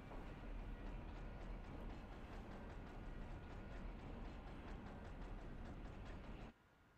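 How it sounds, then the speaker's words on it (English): A tram departs in the Resident Evil 2 video game, a steady loud rumbling with repetitive rhythmic clicking of wheels over rails running continuously, then cutting off abruptly near the end to leave quiet background. "This tram is bound for Nest."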